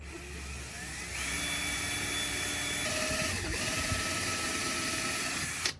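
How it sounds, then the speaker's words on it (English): A 16mm hole saw whines steadily as it bores into a car dashboard, a continuous close grinding drone with a rising tone partway through, then stopping abruptly at the end. "we're going to drill a hole into the dash, so let's do that now"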